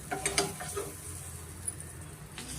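Raisins fry in a pan for banana rava sajjige, giving a soft, quiet sizzle with a few light stirring clinks and scrapes near the start.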